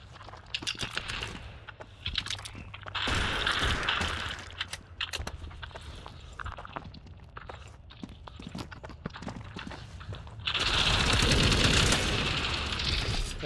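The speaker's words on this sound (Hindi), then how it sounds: "मशीन गन बहुत मज़ेदार है" Machine gun fire in the World War Heroes 2 shooter game, with sharp close bursts at irregular intervals, short pauses between volleys and a heavy sustained stretch of firing near the end.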